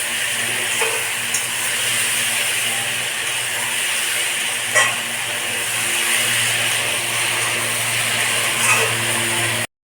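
Chili sauce and sliced green chilies are stirred in a frying pan, giving a steady sizzle and hiss with occasional scraping clicks of the utensil, close and alone for about ten seconds.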